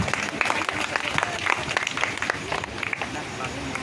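An audience at a Ganesh Puja prize-giving claps energetically for a prize winner, brisk dense applause with crowd murmur and a voice speaking over it.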